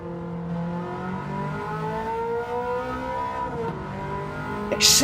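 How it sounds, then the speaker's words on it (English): A 1980s production car engine revs steadily upward in pitch in a racing video game at Goodwood, a throaty motor sound climbing and holding, then a brief burst of noise at the end. "You just rev it right out."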